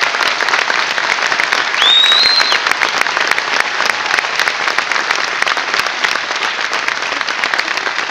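Audience at a cimbalom band concert applauding steadily, a dense, sustained wash of many hands clapping close by throughout, with a brief whistle near the start.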